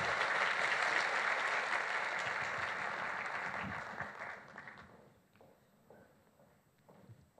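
Audience applause at a business award conference interview, a dense wash of clapping that holds for several seconds, then thins and dies away to a few scattered claps and quiet room noise.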